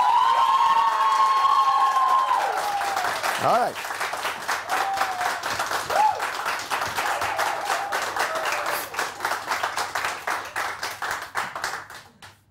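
Studio audience on a Pakistani morning show breaks into loud, sustained applause and clapping that fades gradually over several seconds, with a host's voice heard briefly over it.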